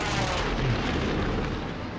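A heavy airstrike bomb explosion in a video game fills the moment with a loud, sustained low rumble and roar that slowly tails off, with no voices over it.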